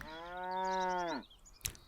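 A single long, loud cow moo rings out in the strategy video game Hexarchy, held steady before dropping off, followed by a brief sharp click.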